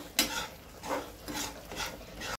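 Meat masala frying in oil being stirred in a cooking pot for an aloo-gobi sabzi, with four or five soft rhythmic scraping strokes of a spoon against the pan, fairly quiet and with no talking.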